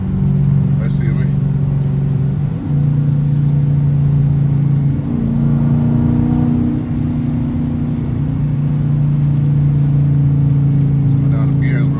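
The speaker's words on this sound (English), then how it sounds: "Let's see if we get a better whine." Stock Dodge Challenger R/T engine heard from inside the car, a steady droning whine rising and falling as it revs through gears, loud and continuous, with faint speech beneath.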